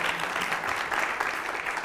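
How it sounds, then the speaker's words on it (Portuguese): Studio audience applauds a band on a television show: steady, dense clapping that stays close and loud throughout without pause. "Vamos aplaudir essa banda maravilhosa aqui."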